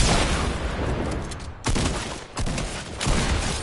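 Loud pump-shotgun blasts and chaotic gunfire from a Fortnite match come in dense, close bursts, with sharp sudden onsets between them.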